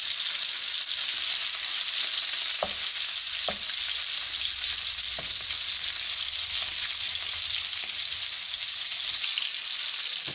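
Pork fries in a pan until golden brown for adobo or humba, giving a loud, constant, close sizzle with a few sharp clicks of stirring, and no talking.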